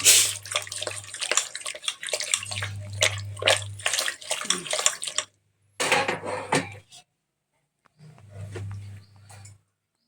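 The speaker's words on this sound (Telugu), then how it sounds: "లైట్గా కొద్దిగా వాటర్ వేయాలి" Water pours and splashes into a pot of country chicken curry in bursts, with metallic clatter and a low hum, broken by short silent pauses.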